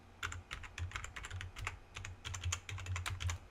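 A password is typed on a computer keyboard in quick, uneven bursts of close, light key clicks with short pauses, and no voices.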